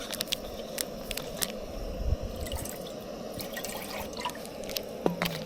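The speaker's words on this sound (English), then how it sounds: "Put some fresh water in here." Fresh water trickles and drips into a cup for tea from a field ration pack, faint and close, with small splashes and a brief clink near the end.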